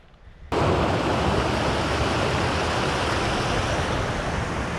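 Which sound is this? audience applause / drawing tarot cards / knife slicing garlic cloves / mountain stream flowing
mountain stream flowing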